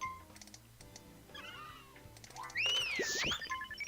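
A cartoonish cat in a sauna-running video game meows with a rising, wavering call near the end, over soft electronic background music and light clicking.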